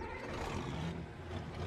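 Brand new Ford truck rolling up a farm driveway in Farming Simulator 22, a short steady engine rumble with a rough roar that stays loud and even for the whole moment.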